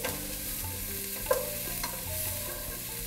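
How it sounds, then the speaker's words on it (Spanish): Onion and garlic cooking in olive oil in a very hot pot for a vegetable soup, giving a steady close sizzle with stirring scrapes and a brief clink, no voices. "Empezamos con cebolla y ajo. Nuestra olla está bien caliente."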